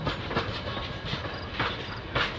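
A train passes, including a Glacier Park rail car, with steady rolling rumble and rhythmic clickety-clack of wheels over rail joints, fairly close and continuous.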